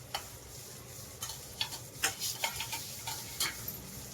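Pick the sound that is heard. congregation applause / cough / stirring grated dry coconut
stirring grated dry coconut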